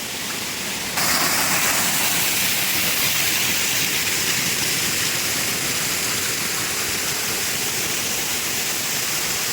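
Water rushing down a forest stream in the Sabarimala jungle during heavy monsoon rain, a loud, steady broadband roar with no pauses that carries on unbroken throughout.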